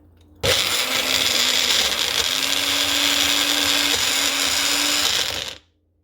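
A kitchen blender grinds soaked ingredients and water into a smooth paste for Jaffna-style puli kanji, a loud, steady whir that starts abruptly, runs for about five seconds, then cuts off.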